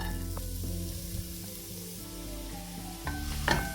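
Chopped onion sautéing in a pan for a spicy Arabian chicken oats soup, a steady close sizzle with a few soft scraping stirs and a brighter clatter near the end, with no talking.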